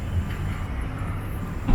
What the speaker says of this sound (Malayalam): ഞങ്ങൾക്ക് തിരികെ പോകേണ്ടുന്ന ട്രെയിനാണ് ആ പോകുന്നത്.